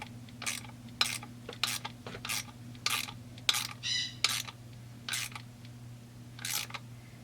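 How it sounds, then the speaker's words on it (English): A 1/2-inch ratcheting wrench tightening a bolt, washer and nut during reassembly of a Stihl MS200T chainsaw, heard as short separate bursts of clicking, each a few seconds apart, close and clear over a low steady hum. "So I've got a 1/2-inch ratcheting wrench here, and make sure the whole thing is centered. So ratchet it on down."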